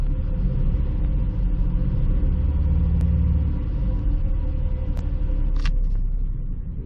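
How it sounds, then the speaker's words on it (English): A Dodge Avenger engine idles roughly with a steady, uneven low rumble, accompanied by a few brief clicks and a short squeak near the end. "Well, she fired right up. She's a little rough idling though."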